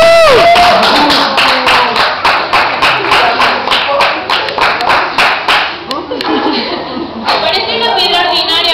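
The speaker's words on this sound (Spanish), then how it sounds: "Con su aplauso se abrirá el telón." Applause opening the curtain of a stage play, with a group of people clapping in quick repeated bursts for several seconds, loud and close. Voices and chuckles mix in near the start and the end.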